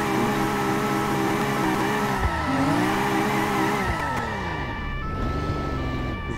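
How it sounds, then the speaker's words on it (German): A BMW M4 drifting in the video game Cobra 11 Highway Nights: a loud, sustained engine whine that rises and falls with throttle, layered with tire squeal through the slides, continuous and close. "kommen wir erstmal zum Drifting hier"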